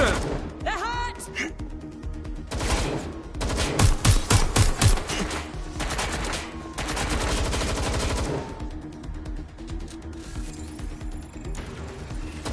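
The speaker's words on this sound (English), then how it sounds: "Shots fired! Shots fired!" Rapid bursts of gunfire from Watch Dogs Legion, with dense automatic volleys clustered mid-stretch and scattered single shots around them, loud and close, with shouting voices in between.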